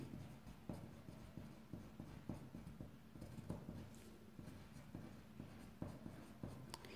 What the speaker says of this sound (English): So you just need to write on here your straight sleeve.